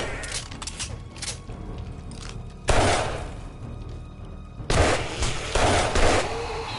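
Bursts of gunfire from the video game 7 Days to Die, loud rapid volleys that cut in, fade to a low rumble of background noise, then return in a second long burst.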